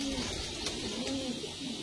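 Andhra pigeons at a sale coo softly in repeated low, wavering calls close by, against a hissy background with faint sounds of people around.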